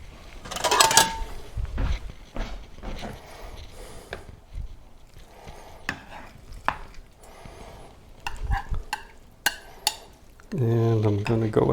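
A plate is fetched and set down in a home kitchen while roast lamb is prepared, heard as scattered clinks and knocks of crockery and utensils, with a voice speaking near the end.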